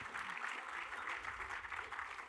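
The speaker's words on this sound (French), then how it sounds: "Oui, vous pouvez les applaudir" Audience at a round-table on Normandy industry during the Fête de la Pomme 2023 gives a short burst of steady clapping, fairly faint and even throughout.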